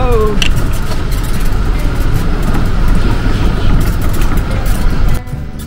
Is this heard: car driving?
yes